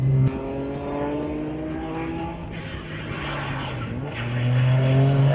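A road car driven hard, engine note rising and falling steadily throughout as the ABS and traction control keep cutting in, loud and close with no talk.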